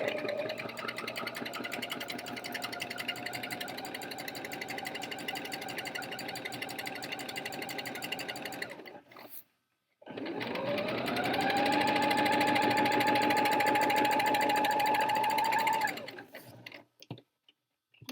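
Sewing machine stitching blouse fabric, a loud, steady rapid mechanical whir with a ticking rhythm, running in two long bursts separated by a short pause, no talking.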